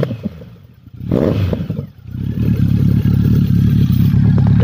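A Honda CB1100 four-cylinder motorcycle with a short slip-on exhaust revs up close by, its loud throbbing roar swelling after a brief blip and holding steady.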